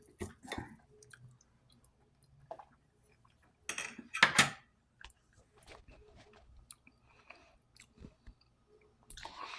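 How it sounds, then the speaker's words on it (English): Someone bites into and chews a forkful of Instant Pot blueberry swirl cheesecake, with soft close mouth sounds and a couple of clinks of fork against plate between quiet gaps. "And I'll take a bite of this."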